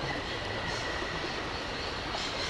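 A train sits in a railway station in the video game Syberia, heard as a steady, dense, loud rumble with no breaks throughout.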